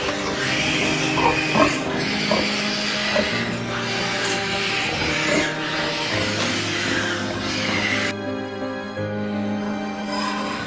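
Pigs in an industrial slaughter setting squeal and grunt almost continuously, loud and overlapping, alongside mechanical droning from the facility.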